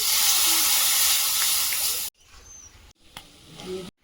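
Water is poured onto potatoes already fried in a pan, giving a loud, sustained sizzling hiss that then cuts to quieter bubbling and a few soft stirring sounds.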